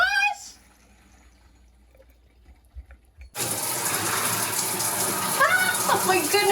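Water gushes steadily from a newly installed tap at a homestead in far northern California, starting abruptly partway through after a quieter stretch with brief voices, then running loud and continuous with people talking and exclaiming over it.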